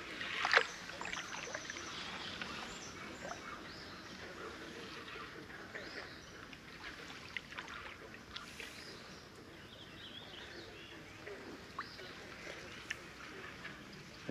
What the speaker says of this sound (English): let's just paddle upstream.